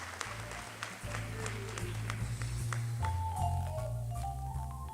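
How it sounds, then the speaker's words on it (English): An audience at a university book launch applauds at a moderate level, the scattered crowd clapping set over a low sustained musical drone and a tone. "Please, a round of applause"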